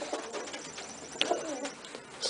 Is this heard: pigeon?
yes